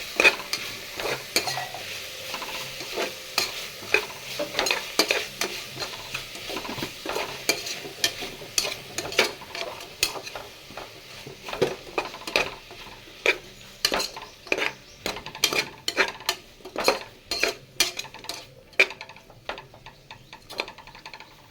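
Three or four tomatoes cook in a pan for tomato rice, a low sizzle under a long run of rhythmic metal spoon scrapes and taps against the pan, close and steady throughout.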